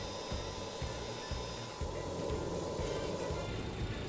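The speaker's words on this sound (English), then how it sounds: "What engines are actually going here?" Jet engines of a BAE 146 airliner in a flight simulator game hum and whine steadily, a continuous mid-level drone with faint high tones and a slight change partway through, with no talking.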